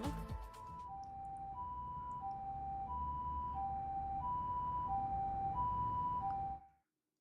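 An ambulance siren in a video game wails in a steady two-tone alternation, loud and continuous for several seconds before cutting off abruptly.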